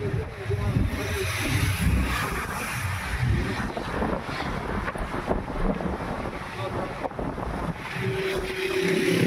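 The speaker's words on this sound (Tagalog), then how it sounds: "Lakas yung hangin dito." Strong wind buffets a microphone on a bridge over the Abra River after a typhoon, a loud continuous roar with gusts and the rush of river water below, with traffic passing on the bridge.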